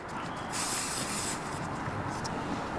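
Compressed air hisses steadily into the rear tire of a Piaggio BV400 scooter during a service, a continuous close rush of air that swells louder for about a second near the start.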